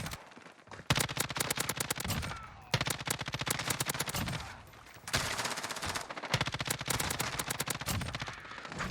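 Rapid automatic gunfire in Call of Duty Warzone, loud and close, in three long sustained bursts separated by brief pauses, with dense rattling shots throughout.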